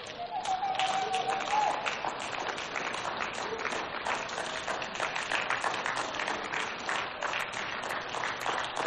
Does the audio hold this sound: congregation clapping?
yes